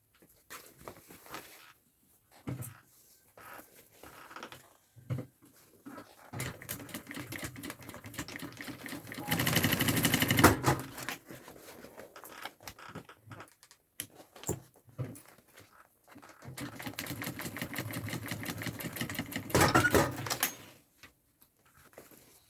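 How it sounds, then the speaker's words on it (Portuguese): Sewing machine stitching a thermal backpack, running in several bursts of steady mechanical whirring with short pauses between them, two longer louder runs standing out, no talking. "Agora eu tenho que costurar aqui de novo."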